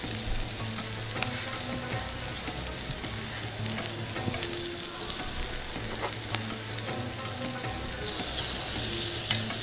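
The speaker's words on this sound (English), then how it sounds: "So I'm actually going to do my chilies and onions all together." Chicken, chilies and onions fry together in a hot pan, a steady close sizzle with occasional stirring clatter running throughout, no talking.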